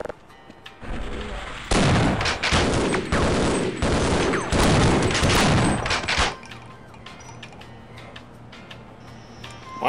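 Sustained gunfire in Half-Life: a loud, dense burst of rapid shots lasting several seconds, then a sudden cut to quieter game ambience with a low hum.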